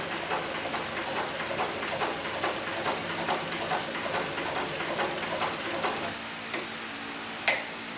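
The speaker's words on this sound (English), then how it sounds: "I'll place the machine back into the forward stitch, and we're going to put a little bit smaller stitch on the machine here" Leather sewing machine running a forward stitch through hard, solid leather, a fast steady mechanical ticking and clatter that stops near the end, followed by a single click.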